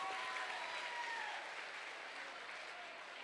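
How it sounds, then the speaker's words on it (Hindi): An audience at a success-story event applauds a speaker with faint, distant, continuous clapping that softens slightly toward the end. "जोरदार तालियां एक बार खुशबू मैम के लिए"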